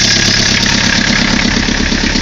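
A 1981 Chevy LUV 4x4 with its small 2.2 diesel engine idles close up, a loud, steady, rapid clatter that stays even throughout with no voices.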